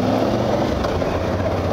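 Suzuki V-Strom touring motorcycle fitted with three luggage boxes, engine running steadily at low speed on the road with a constant throaty drone and wind noise, loud and close.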